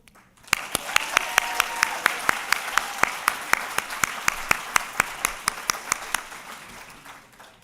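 Applause at a medical school awards ceremony begins after a brief quiet, then settles into a steady roomful of clapping with sharp, evenly spaced claps standing out near the front before tapering slightly at the end.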